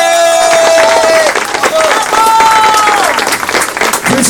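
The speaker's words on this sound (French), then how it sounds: "On peut applaudir Jérémy Bellet." A crowd at a silver medal presentation in Aubervilliers loudly applauds the recipient, close dense clapping with whistles and shouts of cheering rising over it for the whole stretch.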